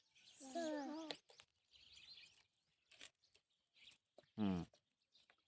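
Small sparrows chirp near a village school in short bright bursts, some nearby and loud, scattered across a quiet outdoor space while a voice and other sounds come and go.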